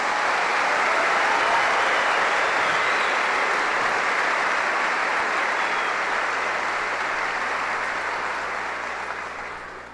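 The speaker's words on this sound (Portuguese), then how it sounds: "Eles merecem uma salva de palmas" Sustained, loud applause from a church congregation for the priests at a bishop's thanksgiving in Brasília, steady and dense throughout, tapering slightly at the end with no voices over it.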